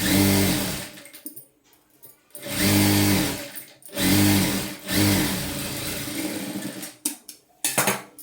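A sewing machine stitches a lehenga blouse in several short runs, whirring bursts of a second or so separated by pauses, close and fairly loud.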